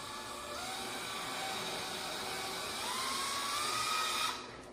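A drill driver runs steadily while working drywall nail pops, its motor a continuous high whine with slight pitch shifts, fairly close and alone, cutting off abruptly near the end.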